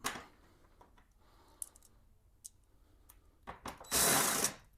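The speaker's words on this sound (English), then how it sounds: "Go ahead and take these bolts out." Bolts being removed from a 2002 Honda GL1800 Goldwing motorcycle during an air filter change, heard as scattered metallic clicks and ratcheting, ending in a loud burst of mechanical noise near the end.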